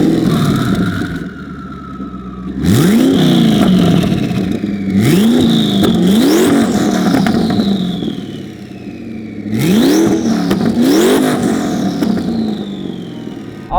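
A 1000+ hp twin-turbo Ford GT accelerates hard in repeated loud pulls, each rising engine roar climbing through the gears with whistling turbo spool, easing between bursts before revving again close by.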